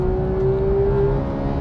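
A GT3 car's engine at full throttle on a race track, revving toward 9,000 RPM: a loud, close, sustained high-pitched drone that climbs slightly in pitch.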